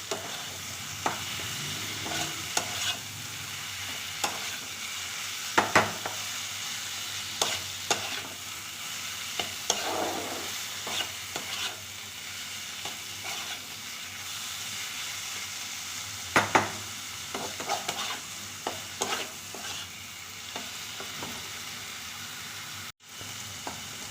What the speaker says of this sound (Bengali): বাঁধাকপিটা দিয়ে এবার একটু নেড়ে দেবো